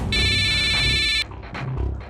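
A telephone rings loudly with a steady electronic tone for just over a second, then cuts off, leaving low background rumble and faint murmuring.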